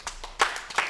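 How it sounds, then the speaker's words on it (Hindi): A small audience claps at a children's show, a few sparse, uneven bursts of hand claps, fairly faint and brief. "आप लोग ताली बजा दीजिए।"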